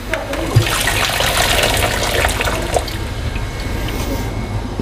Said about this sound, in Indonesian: kita siram aja sama air dingin supaya nggak overcook